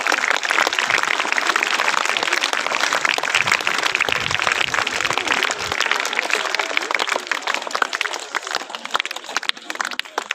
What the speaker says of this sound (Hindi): इन तीनों विद्यार्थियों के लिए जोरदार तालियां